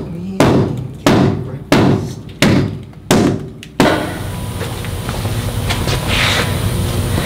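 Volvo 940 wagon body sheet metal being pounded during an LS swap: five sharp, evenly spaced metallic hammer blows ring close and loud, then give way to a steady clattering, rumbling noise.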